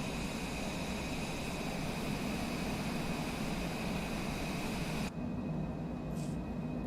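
A Cessna Longitude business jet climbs out in Microsoft Flight Simulator 2020, a steady loud broadband engine roar with a high whine that holds evenly, then cuts sharply to a duller rumble near the end.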